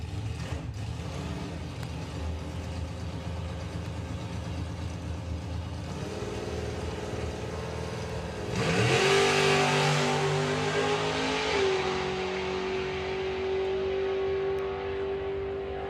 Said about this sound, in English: Steve bringing the two-seater dragster up to the start line then with Kevin Hardcastle in the back